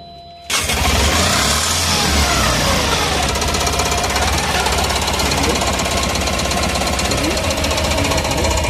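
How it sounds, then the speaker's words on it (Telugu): A Tata Ace HT Plus BS6 diesel with a DPF regeneration fault cranks and fires after half a second, then runs at a loud, steady, rattling clatter close by. "బండి స్టార్ట్ చేసిన తర్వాత బండి స్టార్ట్ అవుతుంది కానీ పికప్ రావడం లేదు"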